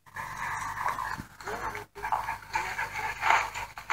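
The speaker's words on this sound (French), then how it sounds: "les chiens qui font les fous" Dogs pant and scuffle playfully up close, with heavy breathing and small whimpers, while a person talks over them.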